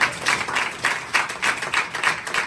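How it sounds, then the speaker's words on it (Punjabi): A church congregation clapping loudly together, a dense rhythmic wash of applause in pulsing waves that carries on steadily throughout. "ਜ਼ੋਰਦਾਰ ਤਾੜੀਆਂ ਮਾਰਾਂਗੇ ਇਸ ਲਈ।"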